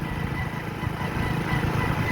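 A motorcycle carrying two riders runs continuously while on the move, giving off a steady, loud engine rumble mixed with broad road and wind noise, close and unbroken throughout.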